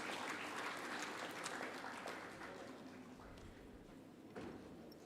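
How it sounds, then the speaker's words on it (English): An audience at a research conclave gives a sustained round of applause, a dense wash of many hands clapping that tapers slightly toward the end. "a huge round of applause"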